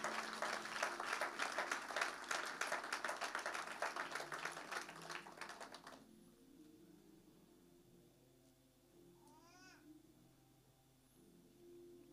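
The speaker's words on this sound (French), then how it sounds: "Est-ce qu'on peut acclamer le Seigneur?" A church congregation applauds with brisk, steady clapping for about six seconds, which then stops abruptly, leaving a quiet room with faint murmurs.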